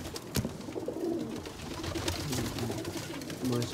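Pigeons for sale in Lahore coo softly in low, repeated calls amid faint rustling and a few sharp clicks, close by and fairly quiet.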